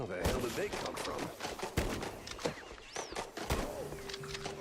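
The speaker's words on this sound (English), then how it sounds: "how does no one in the Opera House hear the gunfire?" Rapid gunfire in the 1930s cartoon-style shooter game MOUSE: P.I. For Hire, with sharp cracking shots in quick irregular bursts, mixed with whistling cartoon effects and a sustained tone near the end.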